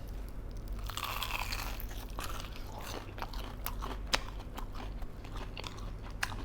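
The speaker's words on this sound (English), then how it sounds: "Nice crunch on it, and then juicy, wonderful chicken." Bites into crispy fried chicken, close crackling crunches and chewing with sharp snaps of breading scattered through a few seconds, quiet otherwise.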